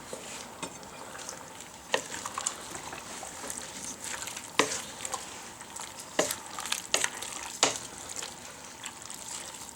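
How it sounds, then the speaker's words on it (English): Turkey chili with mushrooms and spices stirred in a pot, with irregular scraping clicks of the spoon over a soft simmering sizzle, close and moderately quiet, no talking. "Give it a good stir"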